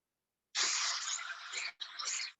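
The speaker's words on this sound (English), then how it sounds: "I'm going to spray my adhesive." A can of spray adhesive sprays in two bursts, a long steady hiss of about a second followed by a brief break and a shorter hiss, close by.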